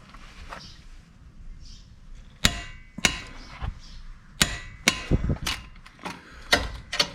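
Torque wrench tightening the bearing hub bolts on a Subaru Outback front wheel bearing, heard as a series of sharp metallic clicks and ratcheting snaps, close and loud in irregular bursts over a quiet background.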